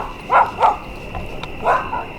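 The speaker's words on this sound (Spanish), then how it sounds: "Por ahí hay otros perros" Dogs barking nearby outdoors at night, a few sharp barks in quick succession followed by another after a pause, alone without talk.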